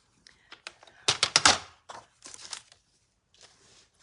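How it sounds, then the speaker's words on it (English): Paper card being cut to size for a fun fold card, a cluster of short crisp snips and rustles at close range, mostly alone with quiet pauses between the cuts. "We'll cut this again."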